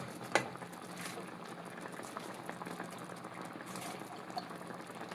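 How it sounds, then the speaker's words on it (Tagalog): Ginataang tilapia with dried kamyas simmering in coconut milk, a continuous soft bubbling and gentle popping of the pot, fairly faint and close, with one brief clink near the start. "kumukulo-kulo na ang ating gatang tilapia na mayroong dried kamyas"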